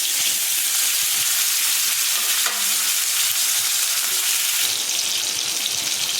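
Curry leaves and small tomatoes sizzle and crackle steadily in a hot pan, a dense continuous frying hiss with occasional stirring scrapes, close by.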